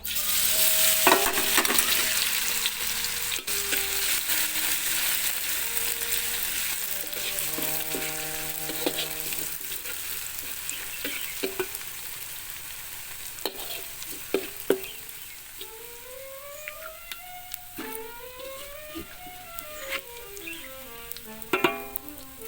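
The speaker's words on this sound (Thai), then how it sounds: "เริ่มแรกนะคะ ทุกคนเราจะเจียวกระเทียมก่อนนะคะ" Garlic frying in a wok with a steady oily sizzle throughout, broken by scraping stirs and clinks, with faint chirping tones drifting in the background.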